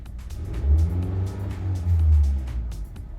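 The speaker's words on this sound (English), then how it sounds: "Go ahead and rev up the engine." Car engine revved while parked with the doors shut, two rising and falling swells of low engine roar over a steady idle, heard from inside, no voices.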